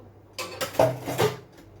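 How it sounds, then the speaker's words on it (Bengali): Freshly scrubbed metal pots and dishes are set down and stacked upside down to drain in a home kitchen, giving a few close, light clinks and knocks without any talk. "আবার এই যে এতগুলো বাসন মেজে নিয়ে আসলাম, এখন জল ঝরাতে দেবো"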